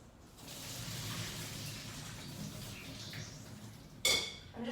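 Cooked noodles are poured from a pot into a strainer, giving a steady rush of draining water for several seconds, followed by a brief metallic clank of the pot or strainer near the end.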